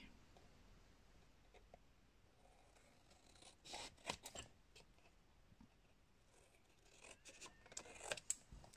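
Scissors snip through paper for a 15x15 cm album, a few close, crisp cuts in short bursts against a quiet background.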